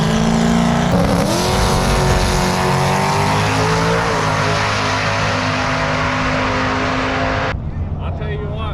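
A 600cc Banshee ATV makes a drag racing pass, its engine screaming loud and close as the revs climb through gear changes, then cutting off abruptly near the end, leaving quieter background noise.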